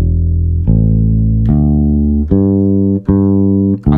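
Bass guitar raked with one finger sweeping across the strings, giving five sustained low notes struck in sequence, each attack sharp and loud, ringing over one another with no voice.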